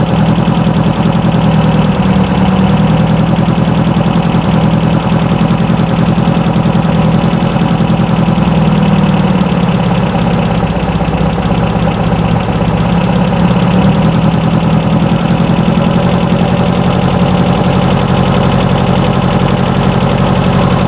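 A 1970-era sand rail's 2.2L engine fed by dual 44 IDF carbs runs loud and close, a rough, choppy, uneven idle with rapid popping firing pulses throughout, no talk.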